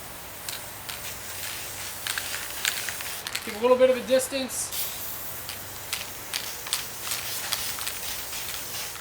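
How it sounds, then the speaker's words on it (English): A short burst of spray paint from an aerosol can hisses for about a second near the middle while camo-painting a gun, with someone talking before and after it. "So we're going to take our paint, we're going to spray through here,"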